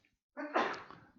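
One short sneeze breaks a quiet pause, a close, breathy burst with a voiced tail lasting under a second, heard during a meditation teaching session.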